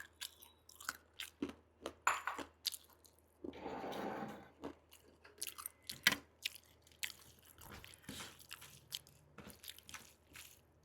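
Someone eats rice with chicken gizzard curry, giving close, quiet, irregular wet chewing and biting sounds with soft squishes, and a brief rustling burst partway through.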